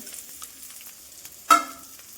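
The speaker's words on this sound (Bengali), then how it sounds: "এবার আলু পেঁয়াজ ভাজাটা দিয়ে দেবো আর দুটো লঙ্কা দিয়েছি" Fried potatoes and onions with two chillies going into a pan: a faint low crackle, then one sudden loud hiss that trails off within half a second, no talking.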